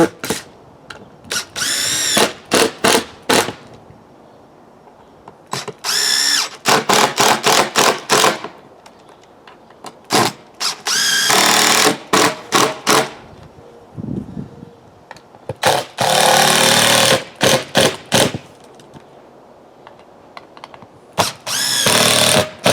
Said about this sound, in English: And put the screws in.